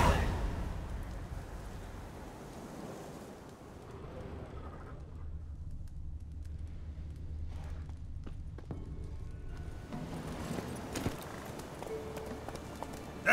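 Roach, Geralt's horse in The Witcher 3, runs at a steady gallop, hoofbeats thudding close and continuous over a low rumble of open-world ambience for the whole stretch.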